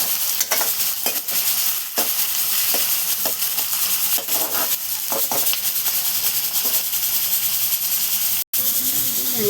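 Onion and tomato sizzle steadily in a hot pan while being stirred, a continuous frying hiss broken by scraping stirs and a brief pause near the end.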